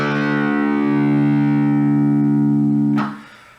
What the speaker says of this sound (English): your 6th string should sound like this